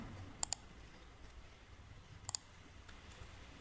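Clicking on a computer while entering a referral code: a few faint, crisp clicks in two quick pairs, close but quiet against near silence.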